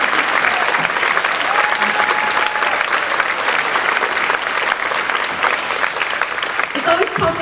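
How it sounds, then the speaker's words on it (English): Sustained applause from a high school concert audience for the drum set and mallet percussion players of a wind ensemble, dense and steady clapping filling the hall, with a faint voice near the end. "Can we give a one more round of applause?"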